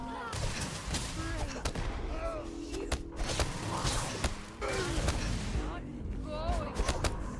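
EM weapons fire in a Starfield space-combat game, heard as dense, continuous bursts of shots and thuds with electronic whines, loud and close, while voices talk over the battle.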